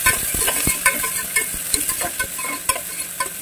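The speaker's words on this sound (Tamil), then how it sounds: "அப்புறம் நம்மளோட வெங்காயம் அது நல்லா மிக்ஸ் பண்ணிட்டுருக்கேன்" Onions are stirred in a pan with a ground paste of curry leaves, garlic and chili, with repeated scraping clanks of a spoon over a continuous close sizzle, loud and steady with no talking.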